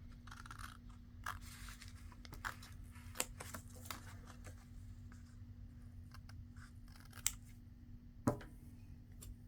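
Scissors snipping through a paper envelope, with quiet, intermittent cuts and scrapes and a few sharper clicks near the end, heard alone against a low steady hum.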